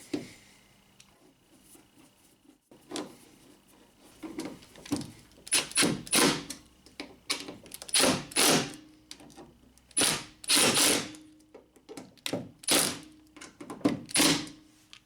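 Screws being started and run into the rear door latch assembly of a 2008-2012 Honda Accord, giving a series of sharp metallic clicks and ratcheting bursts, close and fairly loud, with no talk over them.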